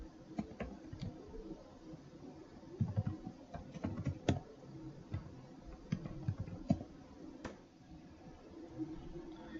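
Commands typed on a computer keyboard in a terminal: steady, close clicking keystrokes in uneven bursts with short pauses, moderately quiet and without speech.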